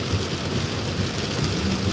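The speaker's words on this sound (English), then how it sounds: "It's raining really bad." Heavy rain falling at night, a dense, steady rushing hiss with a low rumbling undertone, continuous and moderately loud with no voices.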